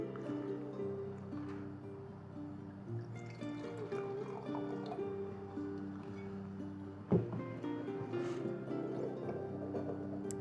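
Red wine poured from a bottle into a glass, a gentle gurgling and dripping under soft background music, close and quiet, with a small clink near the end.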